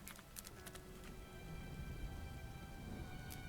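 Colored rain falls in a French cartoon, a soft, steady patter of rain with a few brighter drip and splash accents, heard fairly quietly with no talking.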